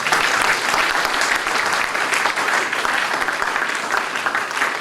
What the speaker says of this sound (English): if you don't think she deserves another round of applause